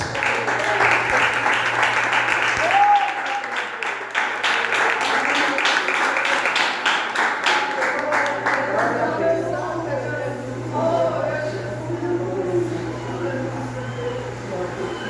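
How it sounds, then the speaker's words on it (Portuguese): A church congregation applauds, with dense rhythmic clapping filling the room for several seconds before easing into quieter, scattered clapping under voices and amplified talk. "Palmas para o Senhor Jesus"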